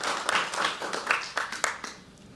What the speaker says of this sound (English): I think she deserves another applaud